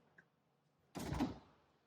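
A refrigerator door with freezer storage at the bottom opens in an apartment kitchen, a single soft thud and whoosh after a moment of quiet, fading out within a second.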